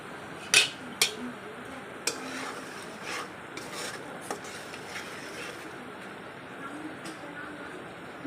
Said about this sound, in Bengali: আর এই মাংসটা এখন রান্না করছি। মশলাটাকে সুন্দর করে কষিয়ে নিচ্ছি।